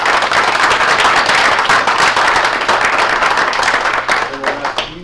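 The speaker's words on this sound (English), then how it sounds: "so we can give them a round of applause" Loud, close applause from a school board meeting audience honoring volunteers, dense crisp claps that thin into scattered individual claps near the end.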